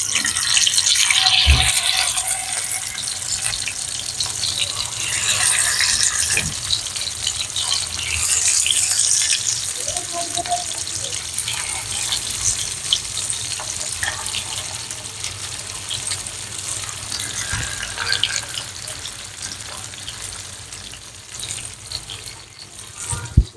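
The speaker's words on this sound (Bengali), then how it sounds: "এখন তেলটা গরম হয়ে গেছে প্রায়, এখন আমরা মাছগুলো দিব ঢেলে।" Poa fish fry in hot mustard oil with cut chillies, giving a continuous sputtering sizzle that swells and fades in waves and stays fairly loud throughout.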